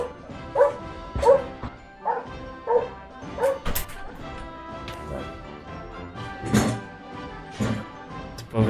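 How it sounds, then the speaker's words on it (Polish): A dog barks nearby in a series of repeated woofs and yips at an uneven rhythm, some softer and whimpering, continuing for several seconds with no talking. "Oczywiście, pies musi się odpalić."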